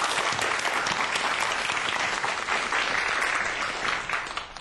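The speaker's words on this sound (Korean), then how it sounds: "큰 박수 청해볼게요." Steady, dense applause from a lecture audience welcoming a university professor speaking on earthquakes, filling the whole stretch at an even level before easing slightly at the end.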